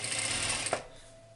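A home sewing machine back-stitching the seam of a rolltop backpack, a steady close whir of the needle running then stopping abruptly and leaving a faint hum.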